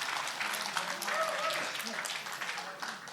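Warm applause fills a room at a book launch event, a steady dense patter of many hands clapping for a few seconds, fading slightly toward the end.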